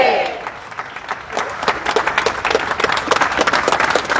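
A crowd at a justice march in Plaza 25 de Mayo claps in memory of the late ex-minister Juan Carlos Rojas, applause swelling from scattered hands into loud, dense, sustained clapping up close.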